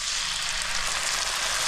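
Garlic and ginger paste sizzling in a pan of frying onions and tomatoes, a steady bright hiss of hot oil throughout, close and even.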